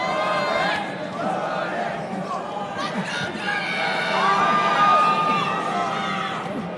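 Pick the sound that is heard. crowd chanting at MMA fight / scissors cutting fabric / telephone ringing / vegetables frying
crowd chanting at MMA fight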